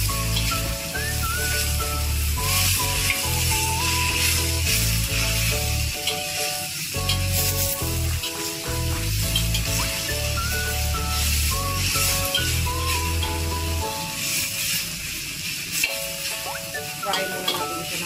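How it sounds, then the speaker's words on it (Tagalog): Chopped chillies fry in hot oil for a Filipino tortang sili, with a steady, loud sizzle and occasional stirring scrapes held throughout, a faint melodic backing underneath and no talk. "So, fry until the chili cook. Vegetable chili cook."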